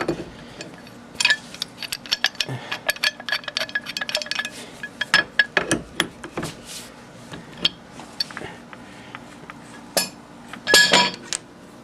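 A large wrench turns out the compound stem of a South Bend lathe, producing scattered metallic clinks, ticks and scrapes at an uneven pace, close by, with no speech.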